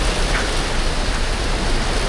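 Heavy rain pours down in Siam Square, Bangkok, a loud, unbroken wash of broadband hiss with no voices over it.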